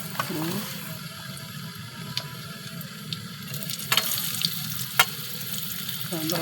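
Cumin, mustard seeds and curry leaves sizzle in hot oil with a steady crackling hiss, punctuated by a few sharp pops and a faint clink of utensils.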